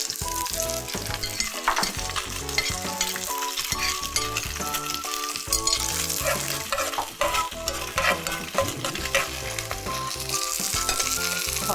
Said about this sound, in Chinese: 那我们现在开始炒炖菜